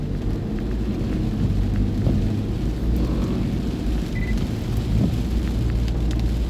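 Heavy typhoon rain pours down in a steady, dense roar, close and loud, with a deep rumbling underneath and no voices.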